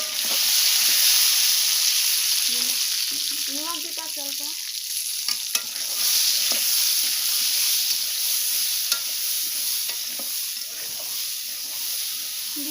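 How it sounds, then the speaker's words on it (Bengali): Peanuts frying in hot oil while being stirred, a strong continuous close sizzle and hiss with scraping stir sounds; a person speaks briefly over the cooking. "তেলটা হয়ে গেছে এখন বাদাম দিয়ে দিতেছে"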